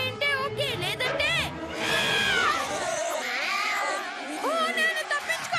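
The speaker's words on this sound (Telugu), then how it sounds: "ఇక్కడ ఒకటి కాదు చాలా క్యాట్స్ ఉన్నాయి" Several cartoon cats meow and caterwaul in a zombie-cat scene, overlapping cries rising and falling loudly over dialogue and background voices.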